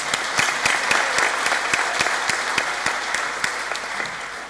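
An audience at a college graduation ceremony claps steadily and loudly in a large hall, a dense sustained wash of many hands that tapers slightly toward the end.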